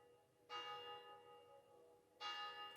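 Church bells ring out in two distinct peals, with resonant tones lingering between strikes against a quiet outdoor background.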